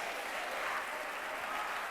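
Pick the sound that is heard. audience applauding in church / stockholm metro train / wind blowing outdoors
audience applauding in church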